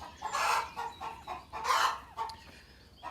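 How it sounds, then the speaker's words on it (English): A rooster and meat chickens cluck and squawk close by in short, uneven bursts with brief pauses between calls, in a chicken run. "And I gotta watch the rooster."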